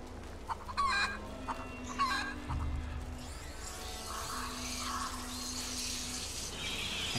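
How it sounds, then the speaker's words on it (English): Chickens cluck and a rooster crows in the video game A Plague Tale: Innocence, fairly close, against a running-water background, with no speech. "Oh, it's a bird."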